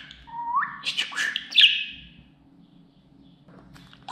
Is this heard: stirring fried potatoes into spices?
no